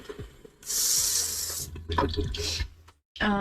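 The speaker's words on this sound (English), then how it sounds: "You can choose between like spray or just like a flow of water." Water sprays from a shower nozzle in a Japanese apartment bathroom in bursts, hissing on and off close by, with a brief voice at the end.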